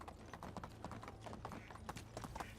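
Horse hooves clip-clopping steadily while riding in the medieval video game Medieval Dynasty, a quick, even rhythm of close hoofbeats heard on their own at a faint level.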